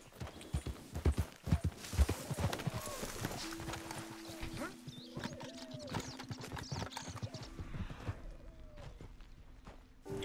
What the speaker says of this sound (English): A random stray horse.